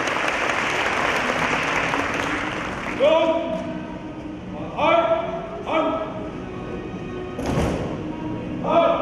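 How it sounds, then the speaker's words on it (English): Audience at an Asian police training academies association conference applauds, a broad steady wash of clapping at the start that fades as a voice begins speaking over it, with a few thuds and a sharp burst near the end. "Please give a big round of applause."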